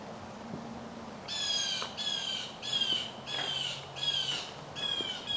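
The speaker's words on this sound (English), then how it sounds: "That bird is loud." A loud bird squawks outdoors in a run of six or so harsh, raspy calls in a steady rhythm, close and prominent over a quiet background hum.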